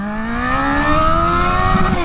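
An XJ6 motorcycle accelerates hard in first gear, its engine note rising steadily in pitch as the revs climb, loud and close throughout.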